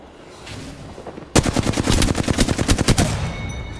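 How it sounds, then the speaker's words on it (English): Automatic gunfire in Apex Legends Season 3, loud close bursts of rapid shots starting abruptly after a quiet stretch and rattling on for over two seconds before easing off. "I'm hearing a lot of gunfire"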